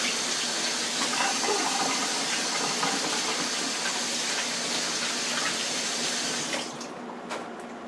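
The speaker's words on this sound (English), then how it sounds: "let me wash my hands to get my cheese." Running kitchen tap water splashes steadily as hands are washed during lasagna preparation, close and continuous, then drops in level as the flow is cut near the end.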